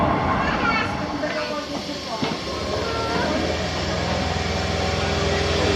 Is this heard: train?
yes